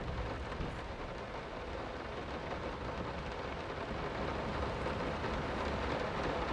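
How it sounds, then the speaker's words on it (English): Heavy rain in the horror video game Layers of Fear, a steady, dense wash of downpour that holds at an even level throughout with no voices. "Oh, it's raining a lot."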